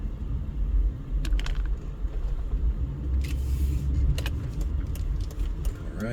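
Street traffic on the Las Vegas Strip, a steady low road rumble of passing cars with faint jingling clicks and brief whooshes on top, continuous and fairly close.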